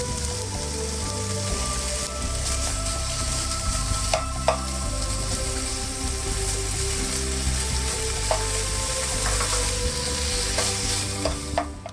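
Bacon frying in a pan for liver and onions, a steady close crackling sizzle with scattered sharp pops, no voices.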